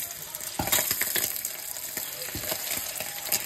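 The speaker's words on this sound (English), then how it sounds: "then start frying my bacon" Turkey bacon sizzles and crackles steadily in a hot pan, close by, with a few light clinks.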